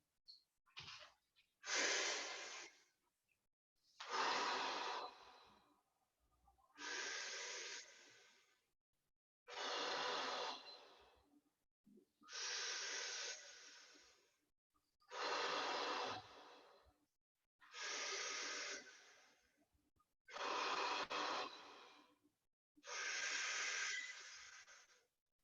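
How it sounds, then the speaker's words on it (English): Slow, deep breathing exercise, each long breath a loud airy hiss lasting about two seconds, repeated in a steady rhythm roughly every two and a half seconds, close to the microphone with no talk. "I'm gonna breathe here"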